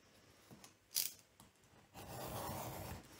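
Scissors cut paper for an accordion mini album, giving a few quiet crisp snips followed by a longer, softer papery rustle, close and alone with no voices.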